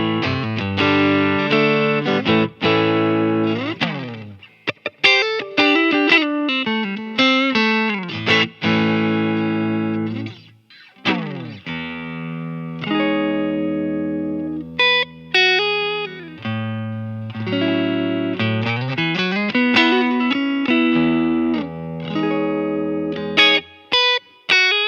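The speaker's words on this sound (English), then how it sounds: "This is just my regular 2014 Fender American Standard Stratocaster that you guys see in all the videos." A 2014 Fender American Standard Stratocaster with nickel-plated steel strings, played on the neck pickup through an HX Stomp modeling a Fender Deluxe Reverb, plays continuous melodic lines and chords with sustained notes, close and loud, with no talking.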